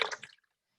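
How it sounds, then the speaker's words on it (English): Water squeezed from a wet sponge drips and splashes onto a canvas mat in a ceramics studio, a short soft wet spatter that fades quickly into silence. "with your sponge, you're going to fill it with water, and you're going to just drip it onto your mat"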